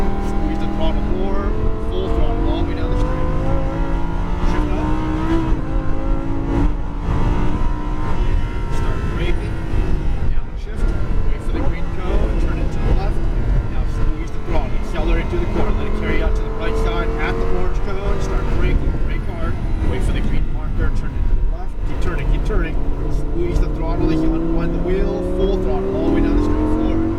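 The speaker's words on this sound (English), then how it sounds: "Full throttle all the way down the straight." A Lamborghini engine runs at full throttle down a straight on a track, a loud, continuous roar with rising and falling pitch as it revs through shifts, while a person keeps talking over it.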